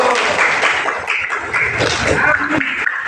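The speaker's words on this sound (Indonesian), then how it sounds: "Oke, tepuk tangan dulu" Schoolchildren in a classroom clap their hands together in a quick burst of sharp, close claps that run for a few seconds, with young voices mixed in.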